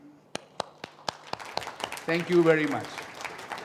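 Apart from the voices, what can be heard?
audience applause at a press conference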